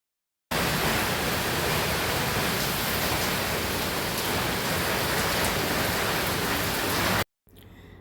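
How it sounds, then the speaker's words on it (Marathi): Heavy first rain of the season falls at home, a loud, dense, unbroken rush of rainfall that starts suddenly and stops just as abruptly, leaving quieter background sound. "इथे बघा, आमच्याकडे ना भरपूर जोरात असा पाऊस झाला, पहिला पाऊस."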